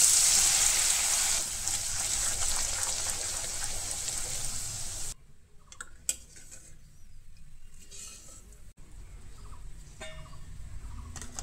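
Shredded potato deep frying in hot oil, a dense sizzling hiss that is loud at first and then fades to softer crackles with occasional utensil clinks, no talk.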